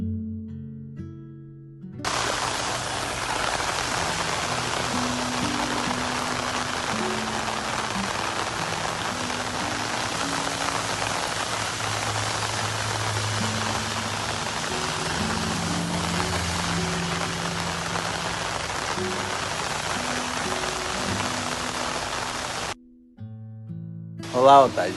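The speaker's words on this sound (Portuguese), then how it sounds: "Só que a chuva parece que tá aumentando agora." Heavy rain pours down during a flood outside a home, a dense, loud, unbroken roar close by that continues for about twenty seconds, with brief muffled voices and quieter moments before it starts and after it cuts out.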